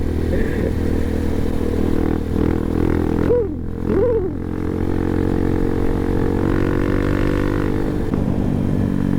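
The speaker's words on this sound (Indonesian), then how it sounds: "Knalpotnya bacot banget, gokil." Loud, throaty exhaust of a 2022 D-Tracker supermoto motorcycle rumbling steadily up close, with a couple of quick throttle blips in the middle and sustained idle roar throughout.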